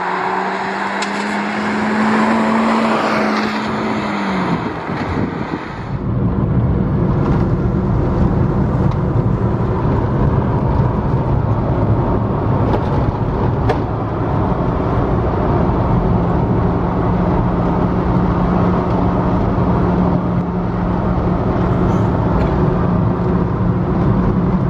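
A 2008 Subaru Sambar four-wheel-drive microvan driven off-road on standard wheels, its engine droning loud and close. An early whining tone drops off, then a rough, steady rumble with road and wind noise takes over.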